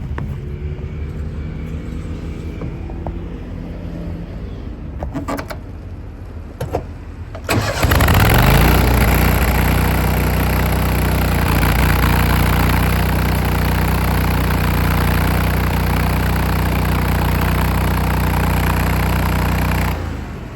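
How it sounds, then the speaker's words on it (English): The welder engine on a 2008 Chevrolet C5500 mechanics service truck with crane and compressor cranks a few times, fires up loudly and settles into a steady, close rumbling idle. "see if we can start this welder."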